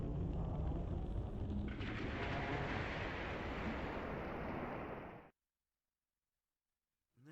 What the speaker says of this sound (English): a rushing behemoth of water. Massive froth of waves.